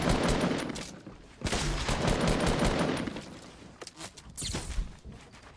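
Rapid automatic gunfire rattles in Fortnite Battle Royale, with loud sustained bursts, a short gap, then more shots and scattered single cracks near the end, with no voices.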